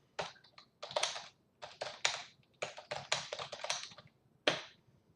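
Computer keyboard being typed on in short bursts of clicky keystrokes with brief pauses between them, close and fairly quiet, with no talking.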